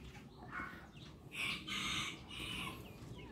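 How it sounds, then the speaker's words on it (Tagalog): Chickens cluck and call in a coop on an overcast day, with a few faint, drawn-out calls that rise and fall over a low background hum. "Yan yung lagay ng ating manukan."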